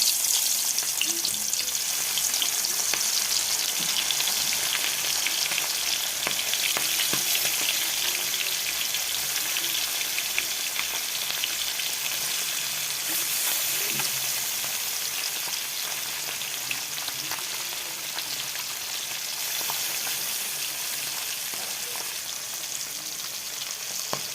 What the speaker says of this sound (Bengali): তেলটা আমার গরম হয়ে গেছে, এখন আমি মাছগুলো ভেজে নেব।